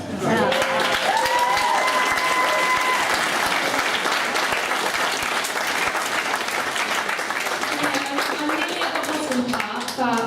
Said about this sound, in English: I just want you to give them a round of applause.